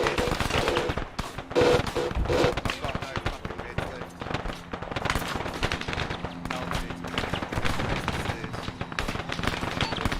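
Gunfire crackles throughout a firefight in the military video game Arma 3, with dense bursts of rapid automatic shots and single cracks at varying distances, while players talk over the shooting.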